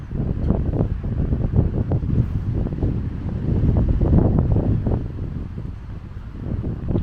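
Strong wind whips across an open cemetery on a cold Christmas Day in Tennessee, roaring steadily and buffeting the microphone in loud, rumbling gusts that never let up, with no voices.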